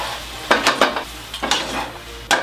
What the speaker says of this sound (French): Les frites, les voilà, araignées, et on égoutte.